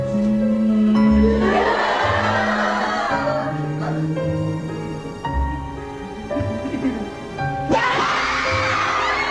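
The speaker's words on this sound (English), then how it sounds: "The quiet murmuring gave way to eerie groans, moans, and loud screams that filled the studio." Studio audience in a Japanese TV show hosted by Tamori erupts into loud screams, groans and moans, a dense crowd din with tonal wails and shrieks, swelling and dipping, then surging again near the end.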